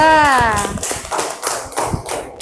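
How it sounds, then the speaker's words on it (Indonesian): Classroom group of students clapping for group 2 before their presentation, a dense patter of claps close by with talk over the start. "Tepuk tangan dulu untuk kelompok 2"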